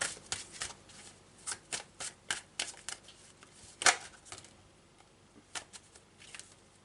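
Tarot cards are shuffled by hand in a quiet room, a series of soft riffles and sharp snaps spaced irregularly, with one louder slap midway.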